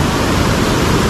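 Padsare waterfall near Lonavla pouring and rushing, a loud, steady broadband roar of falling water that fills the whole moment without pause.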